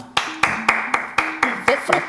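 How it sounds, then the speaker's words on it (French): Hands clap in a sharp, evenly spaced series of about eight loud claps indoors, each with a short ringing tail, while a voice speaks between them. "Tu applaudis. Les applaudissements?"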